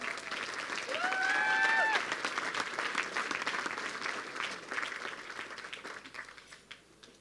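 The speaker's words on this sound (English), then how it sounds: "So please give a round of applause to yourselves" An annual dinner crowd applauds, a full burst of clapping that swells early then gradually thins and fades, with a short whistle-like tone near the start and faint voices beneath.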